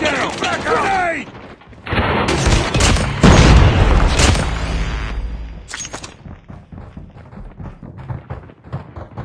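Grenade explosion in Call of Duty Mobile, a loud booming blast with heavy low rumble amid bursts of gunfire, then a decaying tail of smaller crackling shots; a game voice calls out briefly at the start.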